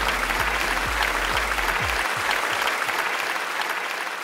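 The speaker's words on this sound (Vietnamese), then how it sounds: "Một tràng pháo tay cho cả hai đấu thủ." A game show studio audience gives sustained applause for two contestants, thick and even clapping, with a few low thumps in the opening seconds.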